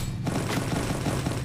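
A brief burst of rapid gunfire in Garena Free Fire during a Clash Squad ranked match, dense booming shots close and loud with no talk.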